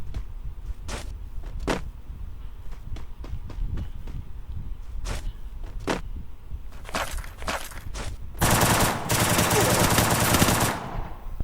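Rapid gunfire in a shooting video game, first scattered single shots and short bursts, then a loud sustained automatic volley near the end, with faint game noise between.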